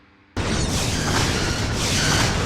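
A loud explosion sound effect from a Star Trek fan film erupts suddenly after a quiet moment and holds as a dense, roaring blast for the rest of the clip.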